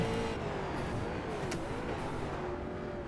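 Street stock car engine in the iRacing game on the Charlotte Roval, a steady loud drone whose pitch rises and dips as gears change, with a brief sharp transient midway.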